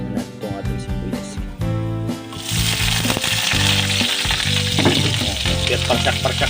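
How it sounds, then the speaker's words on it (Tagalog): Chopped onion hits a hot pan of golden-browned garlic and breaks into a loud, continuous sizzle with crackles and the scrape of stirring, close and building as the frying takes hold. "Ilagay natin itong ating sibuyas."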